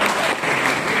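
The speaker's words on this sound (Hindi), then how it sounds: "जो फाउंडर है ड्रोन साथी एक जोरदार ताली उसके लिए बजाइए।" An audience at an entrepreneurship event applauds a drone startup founder, a short, loud, steady burst of many hands clapping filling the hall.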